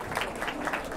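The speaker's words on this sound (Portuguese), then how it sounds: "Uma salva de palmas, Diegão." Audience applause at a live Brazilian event, a steady wash of clapping from a room of people with no voices standing out, sustained evenly across the moment.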